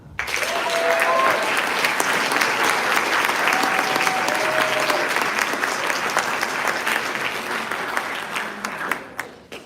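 A large audience claps loudly and continuously at a school awards ceremony, dense sustained applause with a few faint voices mixed in, holding steady before tapering off abruptly at the end.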